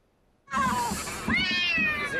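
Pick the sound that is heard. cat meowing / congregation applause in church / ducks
cat meowing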